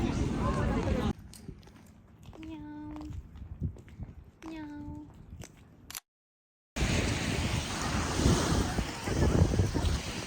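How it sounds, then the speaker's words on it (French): Heavy wind in Perpignan, France buffets the microphone with loud roaring rumble, broken by a quieter stretch where someone speaks French, then the gusting roar returns. "je suis pas sûre que vous allez beaucoup m'entendre avec le vent"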